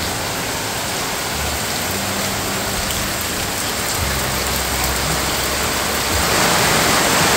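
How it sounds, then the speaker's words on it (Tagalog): Heavy rain pours down steadily, a dense continuous hiss of drops drumming on surfaces, with a low rumble underneath and no voices. "Grabe lakas po ng ulan"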